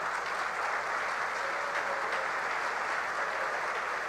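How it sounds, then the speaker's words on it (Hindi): Children standing and applauding loudly for the Centurion team at a school celebration, a steady, dense wash of clapping and crowd noise heard from a distance, continuous throughout. "तो एक बार सभी बच्चे सेंचुरियन की पूरी टीम के लिए जोरदार खड़े होकर शोर के साथ तालियां बजाएंगे"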